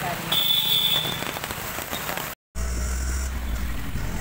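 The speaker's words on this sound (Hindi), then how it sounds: "ये कितना सुंदर लग रहा है यहाँ का वेदर, बारिश भी हो रही है" Rain falling steadily around an auto rickshaw during a ride, a dense constant patter with traffic noise, interrupted by a brief cut of silence midway, then resuming with a low engine rumble underneath.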